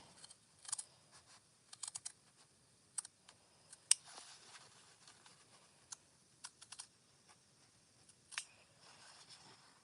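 Scissors snip fabric for a park bag, cutting a small notch down toward a stitched seam: faint, scattered sharp clicks in a quiet room, without talk.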